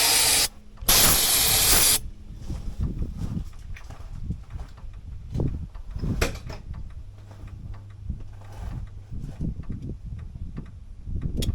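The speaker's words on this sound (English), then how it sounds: "let's put another squirt in there" A short, loud hiss of aerosol spray squirts into a truck engine, followed by quieter rustling and clunks around the vehicle.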